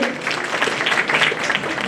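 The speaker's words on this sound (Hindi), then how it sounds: "तो please give him a huge round of applause, तालियों से सर का स्वागत करें।" An audience applauds to welcome a senior criminal advocate at a Bar Council of Delhi enrolment meeting, with steady, dense clapping filling the whole short moment at moderate loudness.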